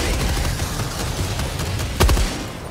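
Mortar fire in a squad-based video game battle: dense continuous rumble of distant explosions and gunfire, with a sharper loud blast near the two-second mark.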